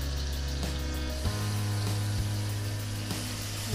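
Garlic paste frying in butter in a pan gives a steady, close sizzle that holds for a few seconds, with a low hum running underneath.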